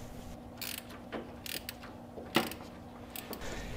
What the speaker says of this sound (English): I'm going to use my teeny weeny little ratchet here just to choke up on it a bit and make sure it's seated all